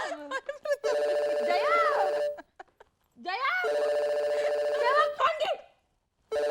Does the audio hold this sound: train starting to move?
no